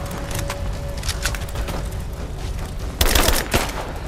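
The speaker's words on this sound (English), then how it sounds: "Laying down covering fire!" Covering fire in Rise of the Tomb Raider, a steady wash of distant gunfire and crackling bursts with a louder, closer volley near the end, no talk.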